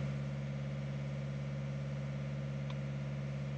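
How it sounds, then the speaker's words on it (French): Sailboat's inboard motor running at over 3000 rpm, a steady close droning hum with strong low harmonics, continuous and unbroken throughout. "Là, le moteur, il prend plus de 3000 tours."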